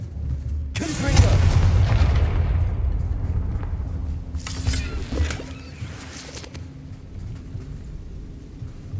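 A Confringo blasting spell goes off in Hogwarts Legacy, a heavy booming explosion that hits early and rumbles down, followed by scattered crackling debris and a second fainter burst midway, with a voice briefly heard at the start.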